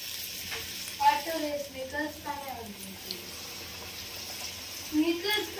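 Cabbage manchurian mixture fries in a kadhai with a soft, low sizzle of oil, while a voice talks over it at intervals.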